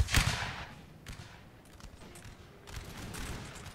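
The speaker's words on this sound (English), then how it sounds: "We started to fire towards the town, and the town started firing back towards us." Musket volleys and artillery in a Napoleon: Total War siege battle at Åbo against a town, a sharp burst at the start, then scattered distant shots and a renewed crackling fusillade toward the end.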